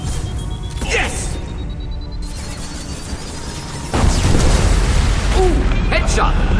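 A loud explosion in the video game Mass Effect 2, a sudden booming burst that jumps up midway through and holds as a dense rumbling roar amid game noise and voices.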